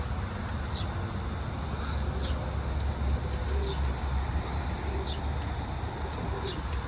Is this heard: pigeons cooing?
yes